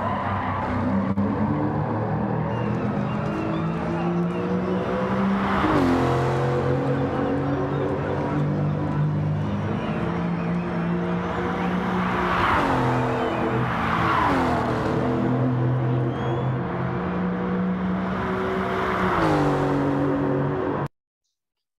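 Race car in the Gran Turismo video game, engine note rising and falling continuously for about twenty seconds as it winds through gears and corners, loud and steady before cutting off abruptly.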